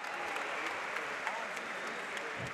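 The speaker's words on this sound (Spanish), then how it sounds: "Un aplauso para el campeón." A crowd at an MMA event in Monterrey, Mexico, claps for the champion with a dense, even wash of applause from a large audience.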